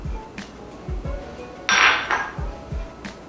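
Flour and baking powder being mixed into cranberry coffee cake batter: a utensil knocks and scrapes repeatedly against a bowl in a steady rhythm, with one brighter clinking scrape in the middle, close and fairly loud.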